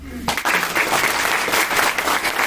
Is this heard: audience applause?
yes